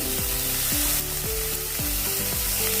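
Finely chopped fenugreek leaves fry in a pan, giving a dense continuous sizzle with a steady, even hiss throughout.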